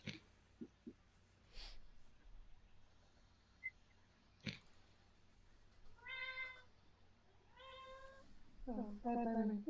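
A domestic cat meows several times, faint and close, in short rising cries toward the end, with a few soft clicks and breaths before in a quiet room.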